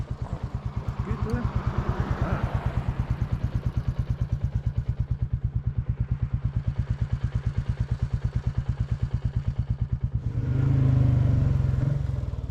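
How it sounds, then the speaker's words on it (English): A Royal Enfield Classic 350 single-cylinder motorcycle thumps along a highland road in a steady, close, rapid beat with wind rush, swelling louder near the end as the throttle opens. "The wee Enfield's loving it, singing its heart out up here, in its element, putting along here."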